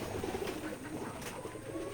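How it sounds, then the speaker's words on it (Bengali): Pigeons at a pigeon farm cooing softly in a low, continuous murmur of overlapping calls with a steady background hum, no voices. "এটা আমাদের ফার্ম হাউস কবুতর খামার"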